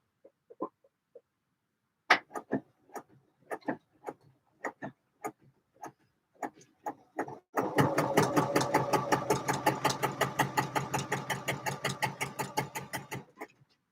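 A sewing machine stitches fabric for a coat, first in scattered single clicks and short bursts, then settling into a fast, steady run of rhythmic needle thumps, close and fairly quiet.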